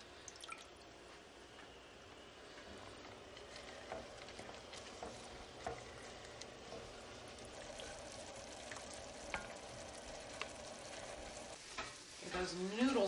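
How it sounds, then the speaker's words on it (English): Soaked rice noodles cooking in liquid in a pan, giving a steady low sizzle and bubbling with occasional stirring and dripping that swells near the end. "add my soaked rice noodles and let these cook in that liquid until they're nice and tender"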